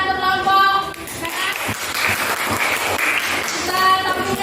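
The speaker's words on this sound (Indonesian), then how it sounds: "tepuk tangan untuk kelompok" A group of teachers or workshop participants applauds a presenting group, a steady wash of clapping swelling in the middle, with talk heard at the start and end.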